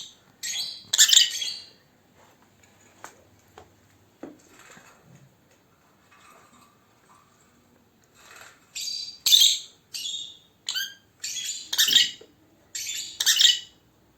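A small paradise parrot gives repeated sharp chirps and squawks in scattered bursts, close by, with quiet gaps and faint rustling between calls.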